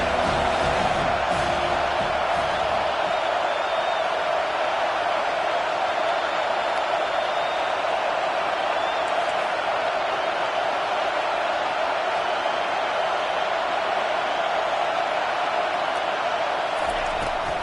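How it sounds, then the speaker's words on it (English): Home crowd at a football game, a constant loud stadium roar of cheering and shouting sustained throughout, with a broadcast commentator's voice blended underneath. "Man, this crowd really affecting the football game."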